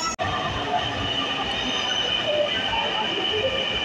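A Dhaka metro train pulls into a station with a loud, continuous rumble and a high steady whine of wheels and motors, a brief dip at the start and no break after.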